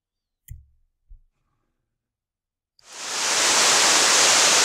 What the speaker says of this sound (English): behind me here is a beautiful waterfall